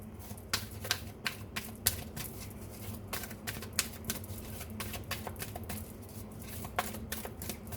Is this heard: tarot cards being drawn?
yes